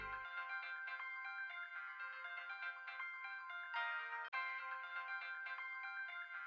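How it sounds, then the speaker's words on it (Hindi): A mobile phone rings with a bright electronic melody that repeats steadily, loud and close, with a brief gap partway through. "ये तो प्रिया का फोन है।"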